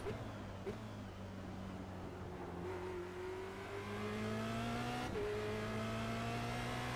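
Formula Renault 2.0 race car in the iRacing simulator accelerating hard, its engine note climbing steadily through two quick gear changes, a close, moderately loud whine without talk.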